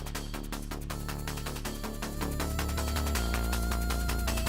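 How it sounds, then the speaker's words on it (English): Video game music in which a spider cue kicks in, layering a ticking hi-hat, a deep bass line and a small melodic line over a dense, continuous backing track at steady volume. "the music is going to immediately add in the spider cue"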